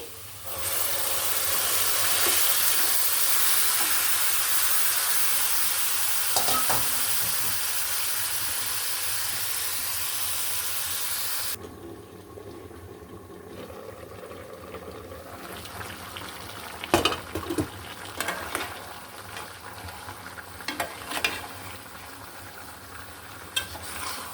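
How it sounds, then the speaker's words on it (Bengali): Beef pieces go into hot oil with fried onion, garlic and ginger, giving a loud steady sizzle that drops off sharply partway through, then settles into a quieter bubbling fry with occasional clatter of stirring. "পেঁয়াজটা আমার ভাজা হয়ে গেছে এখন আমি মাংসটা দিয়ে দিব এখানে"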